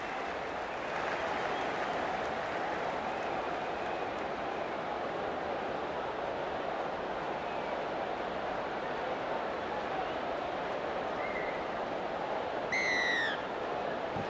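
A rugby league stadium crowd in the Rugby League 26 video game keeps up a steady, broad roar, with a few brief whistle-like calls near the end.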